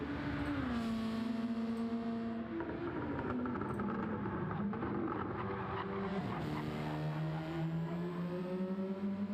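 Race car engine in a racing video game at the Green Hell circuit, a high whining engine tone that climbs and drops through gear changes and corners, steady and fairly faint under game audio.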